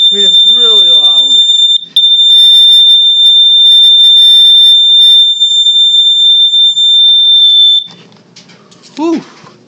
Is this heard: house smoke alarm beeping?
yes